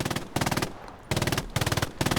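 Machine gun fire in the Hell Let Loose video game, with three close, loud bursts of rapid automatic shots separated by brief pauses.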